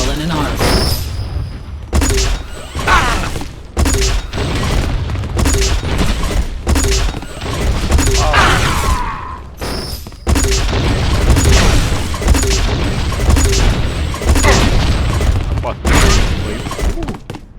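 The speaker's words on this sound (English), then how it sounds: "The secondary fire mode launches an explosive shell in an arc." Flak cannon in Unreal Tournament fires repeated loud explosive bursts and booming blasts in an irregular, rapid run, sounding close and dense throughout.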